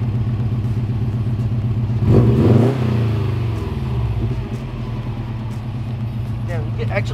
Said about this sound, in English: Give it a rev for me.